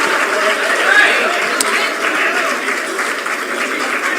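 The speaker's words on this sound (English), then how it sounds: "please welcome Mr. Kharge with a big round of applause" A crowd of guests applauds steadily at a book launch honouring Mallikarjun Kharge, a dense, even wash of clapping with faint murmuring voices underneath, holding at one level throughout.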